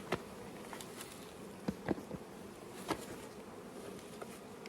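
Honey bees hum steadily at an opened hive, a soft continuous buzz with a few louder individual bees flying close past, faint and without speech.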